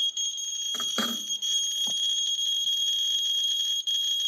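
Radiation detector sounding a rapid, continuous electronic beeping alarm close by a thorium glass camera lens element, steady high-pitched tones running throughout with a few brief handling clicks near the start.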